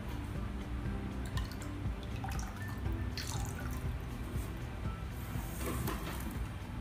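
Drops of blue anti white spot liquid are added to aquarium water in a home fish tank, giving faint dripping and small splashes over a quiet background.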